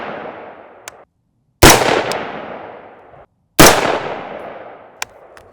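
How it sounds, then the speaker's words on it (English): Two loud rifle shots from a rifle fitted with a $50 scope crack out about two seconds apart, each with a sharp onset and a long fading ring, over a quieter background rumble. "So we're gonna shoot 3 shots here and see how tight of a group I can get."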